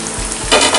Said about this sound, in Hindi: बेबी पोटैटो छोटे वाले आलू मैंने उबाल के कंप्लीट करके रेडी रखा था, अब ये इसके अंदर डाल देंगे